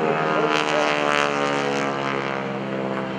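An aerobatic propeller airplane flies inverted at the 2011 AirPower Over Hampton Roads air show, with a loud steady droning buzz from a constant engine, close and sustained throughout.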